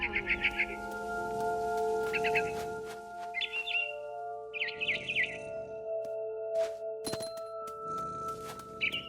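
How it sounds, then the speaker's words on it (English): A barn swallow chirps near a window in the video game What Remains of Edith Finch, with short bursts of twittering calls repeating over a steady tonal music bed, plus a few soft thumps. "Then I heard chirping outside my window. It was a barn swallow going back to her nest."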